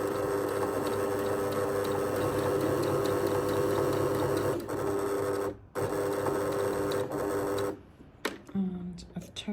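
A sewing machine stitches a continuous bound placket on a shirt sleeve with a very short stitch length, a dense steady whirring hum running for several seconds, pausing briefly twice, then stopping, with a voice talking over it.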